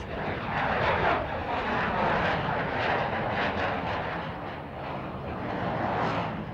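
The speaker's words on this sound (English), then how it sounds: "going to slow the Hornet down to almost minimum speed and approach center stage at 120 knots" A CF-18 Hornet fighter jet making a slow, nose-high, high-alpha pass at about 120 knots, a loud, broad, steady roar that swells and eases slightly, heard from outdoors with no talking.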